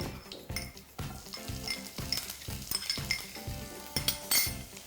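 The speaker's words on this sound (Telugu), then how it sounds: "కూరకి సరిపడినంత ఆయిల్ వేసుకుని ముందుగా అల్లం పచ్చిమిరపకాయలు" Ginger and green chillies frying in oil in a pan, with a steady sizzle broken by repeated close clinks and scrapes of a metal utensil against the pan.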